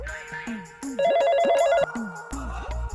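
A telephone rings in a short, warbling electronic burst of about a second, set among other intermittent background sounds.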